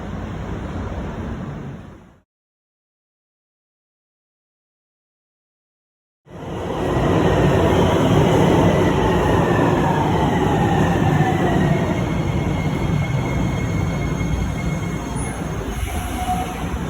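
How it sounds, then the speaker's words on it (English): A northbound train passes on the other side of a Miami transit station near Government Center, a loud, close rumble with wheel squeal that fills most of the clip after a few seconds of silence. "Here comes the northbound train on the other side."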